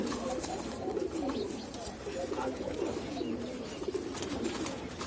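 Pigeons in a loft cooing continuously, a soft layered murmur of low coos from several birds close by, with faint rustling throughout.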